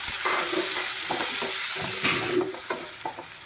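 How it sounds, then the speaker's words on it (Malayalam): Chopped tomatoes are stirred into a squid masala frying in a pan, producing a loud continuous sizzle and soft scraping strokes that ease off midway. "അരിഞ്ഞ് വെച്ചിരിക്കുന്ന തക്കാളി ചേർക്കാമേ രണ്ട് തക്കാളിയാണ് നമ്മൾ ചേർക്കുന്നത്"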